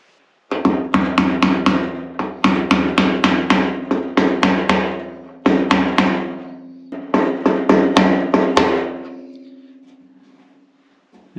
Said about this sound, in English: I'll just get a little screwdriver and I'll just tap this on.